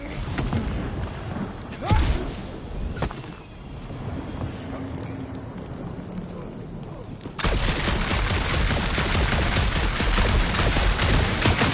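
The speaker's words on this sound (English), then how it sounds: "My shooting's not aimless" Gunfire from the Guardians of the Galaxy game crackles in quick bursts, then turns into a dense, steady stream of loud shots, with booms and mechanical clatter mixed in.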